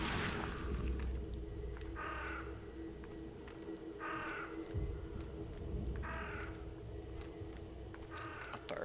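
A crow caws repeatedly in The Sinking City, four harsh calls spaced about two seconds apart over a steady low ambient drone, with faint footsteps underneath.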